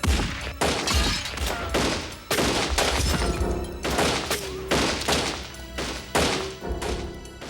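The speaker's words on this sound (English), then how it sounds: "20 rounds ricocheted through the small store in a matter of seconds." Rapid bursts of gunfire, about twenty rounds fired inside a small auto license tag agency during a robbery, crack loud and close in quick clusters, with thuds and ricochet-like whines between shots.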